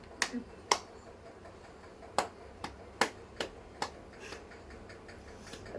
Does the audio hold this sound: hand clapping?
yes